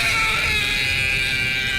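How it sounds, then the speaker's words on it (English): A boy screams on a bus in one continuous, shrill, sustained wail, loud and strained, with no break throughout. "Fred then spends nearly 40 seconds screaming on the bus."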